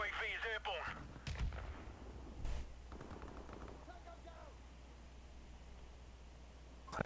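Gunfire in a multiplayer shooter video game, one shot fired through a wall: a few sharp bursts early on, then a quieter stretch with game sounds and faint voice chat.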